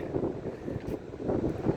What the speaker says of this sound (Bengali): এখানে যথেষ্ট বাতাস আছে